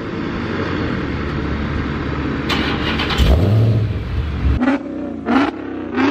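A 707-horsepower Dodge Charger Hellcat SRT idles with a deep, loud rumble, then revs sharply several times in quick, rising blips close by.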